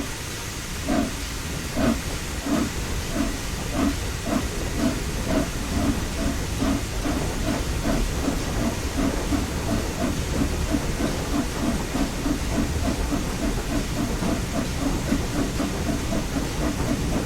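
A Flying Scotsman steam locomotive pulls away slowly in Train Sim World 6. Rhythmic chuffs and exhaust beats sit over a steady steam hiss and rail rumble, and the chuffs keep an even, unhurried pace.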